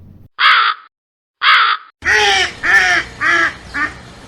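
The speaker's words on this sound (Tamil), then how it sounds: "அந்த மரத்தில் ஒரு காகம் கூடு கட்டி வாழ்ந்துட்டு வந்தது" A crow caws loudly and close: two separate harsh calls with pauses between, then four rapid, hoarse caws in a row.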